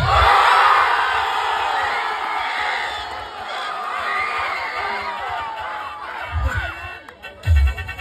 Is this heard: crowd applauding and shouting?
yes